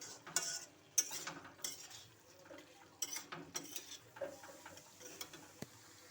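Fried prawns being stirred in a pan, a quiet scatter of spatula clicks and scrapes against the metal over a faint sizzle, irregular taps spaced through the stretch.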